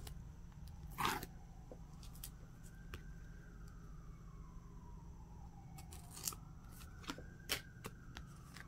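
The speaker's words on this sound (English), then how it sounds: "let's take off the washi tape" Washi tape peels off a K-pop album package in a sharp, loud rip near the start, followed by softer crinkles and a few brief taps and scrapes against a quiet background.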